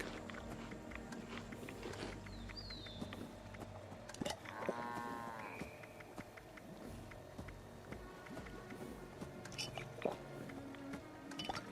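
A cow moos once in Fallout 76, a drawn-out, slightly wavering low call amid game ambience, footsteps and clicks, with faint whispered-sounding noise underneath.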